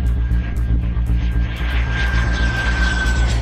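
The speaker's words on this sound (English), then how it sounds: "But this time, it is a Rolls-Royce turbofan jet engine." A Northrop Grumman RQ-4 Global Hawk drone with a single Rolls-Royce turbofan jet engine roars loud and steady, a dense continuous engine drone with a high whine running through it.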